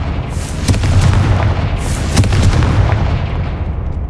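Two heavy booming blasts from the Confringo fire spell in Hogwarts Legacy, one near the start and one about halfway, each followed by a rolling rumble that fades out at the end.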